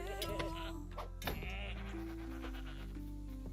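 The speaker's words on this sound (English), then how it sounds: "It's not a deer, but it's a goat." A goat in the game LOTRO bleats a few times, short wavering cries close by over a steady ambient music drone.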